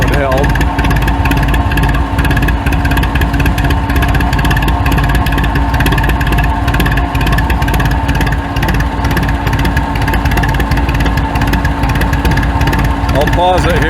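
An IH TD9 dozer engine idles steadily while it warms up, a loud, constant rumbling chug close by that carries on without a break under someone talking.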